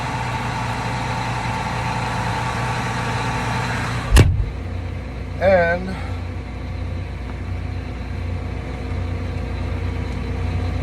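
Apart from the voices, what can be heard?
engine running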